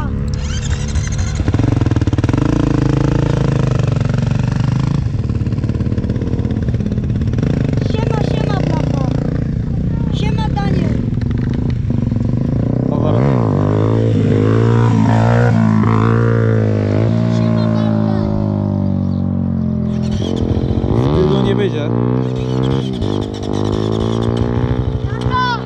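A KTM motorcycle engine running on a street, loud and continuous with revs climbing and dropping, close by, while several people chat over it.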